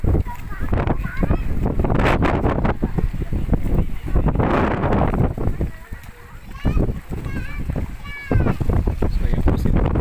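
Strong wind gusting over open sea from a small boat, buffeting the microphone in loud uneven rushes, with people talking intermittently over the roar.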